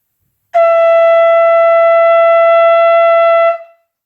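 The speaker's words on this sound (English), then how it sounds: "there are generally four calls that are blown from the shofar" A single sustained horn-like blast from a shofar, the long single call, steady and bright, holding about three seconds before cutting off cleanly, loud and close.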